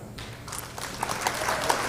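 Applause after a shot in a challenge match between the Bussan Brothers and Ramstack/Brown, a brief burst of clapping from a small crowd lasting under two seconds, fairly faint and heard on its own.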